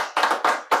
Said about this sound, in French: J'entends des applaudissements.